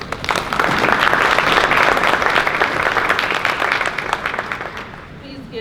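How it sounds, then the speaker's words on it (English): An audience applauds a speaker, Dr. Buckley, at the close of her talk. Dense, steady clapping from a sizeable crowd runs for about five seconds, then thins and fades toward the end. "Please give Dr. Buckley another round of applause."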